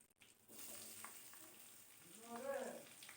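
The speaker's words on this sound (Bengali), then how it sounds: "পেঁয়াজটাকে ভালো করে ভেজে নিচ্ছি" Chopped onion fries in a pan with a bay leaf for an egg do pyaza, giving a faint, soft sizzle with a quiet voice speaking briefly near the end.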